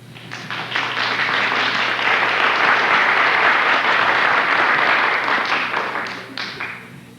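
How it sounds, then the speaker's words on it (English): Studio audience on a 1979 television food quiz breaks into applause, a full burst of many hands that swells quickly, holds steady, then thins out with a few scattered claps. "Give yourself a little applause."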